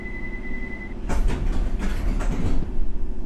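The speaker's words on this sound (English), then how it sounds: "let's close the doors." Subway train doors closing in the World of Subways 3 game, a C77 or D78 stock train: a steady warning tone stops, then a burst of sliding door movement and clunks over the continuous hum of the idling train.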